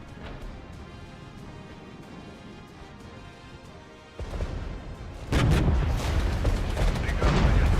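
Artillery fire in the tank game Iron Tide rumbles over a steady battlefield din, then heavy booms and crackling blasts grow louder and denser toward the end, with no talk.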